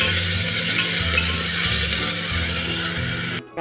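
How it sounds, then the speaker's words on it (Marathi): Onion and curry leaves fry in a pan for a masala rice dish, giving a loud, continuous sizzle with soft stirring scrapes that cuts off abruptly at the end. "आता टाकूया हा कांदा आणि हा कढीपत्ता आणि हा कांदा आपण गुलाबी रंगावर चांगला परतून घेऊया"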